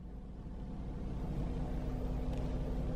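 A Seat Ibiza engine idles very quietly, a faint, steady low hum and rumble that holds evenly throughout with no revving or voices.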